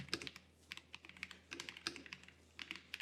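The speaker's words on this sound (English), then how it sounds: "So you can see how those sound and how nice that seems when you're typing" Quick bursts of keystrokes on a computer keyboard, close and crisp, in irregular clusters with short pauses, no talking.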